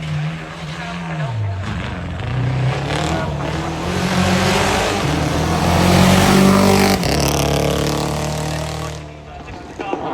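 A 2006 Mitsubishi Evo rally car at the Prescott hill climb roars past loudly, the engine note rising and falling through gear changes, with a commentator talking over it.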